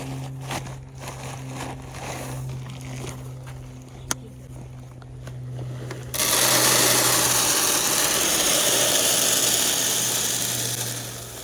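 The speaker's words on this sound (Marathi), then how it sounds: "बारीक आहे ट्रॅक्टर मला वाटलेलं मोठा आहे" A small farm tractor engine hums steadily at idle, then a louder, rushing noise takes over partway through and continues to the end.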